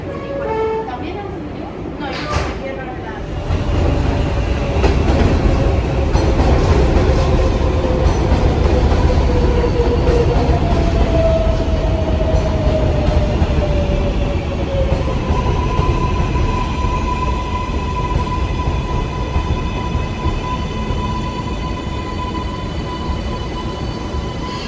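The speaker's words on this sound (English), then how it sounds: "This is a Manhattan-bound 7 express train" A Manhattan-bound NYC Subway 7 express train runs with a loud, steady rumble and clatter. Wheels squeal at times, and a voice announcement plays over the train noise.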